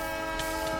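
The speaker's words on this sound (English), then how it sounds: "That train sound almost triggers me, and I don't know why I use it." A train in the Minecraft Create mod sounds a steady, sustained horn-like tone, layered with a rumbling rolling hum and a couple of brief hissing bursts, clear and close throughout.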